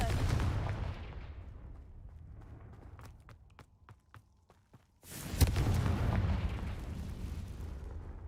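The Confringo fire spell from the video game Hogwarts Legacy, a loud booming blast that erupts after a stretch of quieter clicks, followed by a rumbling roar that trails off.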